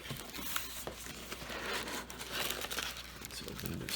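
Plastic wrapping crinkles and tears steadily while an Uhuru UMK-100 wired 60% mechanical keyboard is unboxed, rustling close to the mic for several seconds with faint background voice.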